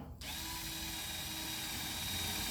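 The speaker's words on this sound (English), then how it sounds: "I'm going to drive that in there. This is going to make a whirring sound." A power drill whirs continuously at high speed to create friction and heat in a science center fire-starting demonstration, a steady loud mechanical drone that starts abruptly and holds without a break.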